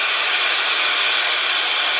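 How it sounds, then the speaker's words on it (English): Blow dryer used with a round brush to dry hair, a loud, constant high-pitched whooshing hum running without a break, close and alone. "That was actually the easiest I've ever used a round brush and a blow dryer together."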